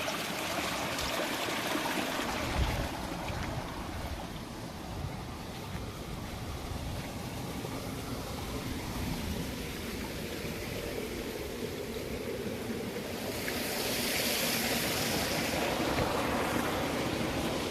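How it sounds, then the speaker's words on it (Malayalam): Water flows steadily out of a dam near a full reservoir, making a continuous broadband rush and roar that holds an even level throughout and swells slightly toward the end. "ഡാമിന്ന് വരുന്ന വെള്ളാട്ടാ."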